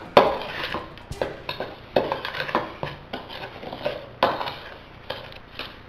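Dry flour and baking powder being mixed for pasta sbriciolata, a utensil scraping and clinking against a bowl in a steady run of close, distinct taps and rubs.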